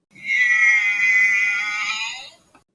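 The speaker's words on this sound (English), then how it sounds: "Our family also has a pet cat." A pet cat lets out one long, loud, drawn-out meow close to the microphone, rising and then trailing off before a brief faint sound at the end.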